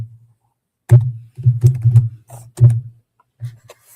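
Bursts of typing on a computer keyboard, quick clusters of close, crisp key clicks separated by short pauses, heard alone in a quiet room.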